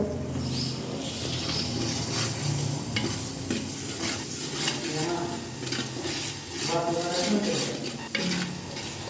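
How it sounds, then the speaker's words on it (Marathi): A ground masala paste with tomatoes roasts in a pan for a brinjal and potato curry, a continuous sizzle and bubbling under frequent metallic scraping and clinking of the stirring spoon. "आणि इथे मात्र मसाला चांगला भाजून घ्यायचा आहे"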